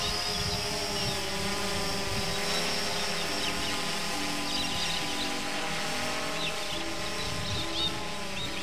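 Blade 350QX3 quadcopter drone hovering and then flying, a steady whirring buzz of its rotors with a constant drone that stays fairly even and moderately distant, with no voices.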